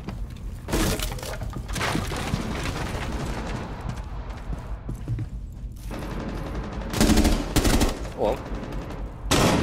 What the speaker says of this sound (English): Sick flashbang.